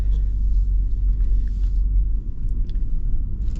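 A Toyota Land Cruiser 100 series sets off with a steady, deep low engine rumble heard from inside the cabin, continuous and fairly loud, with no talking.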